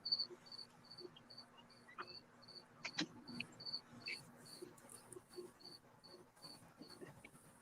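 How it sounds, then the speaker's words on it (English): Crickets chirp in a steady, regular train of high pulses, faint and somewhat distant, with a few scattered soft noises in the background. "I hear actual crickets."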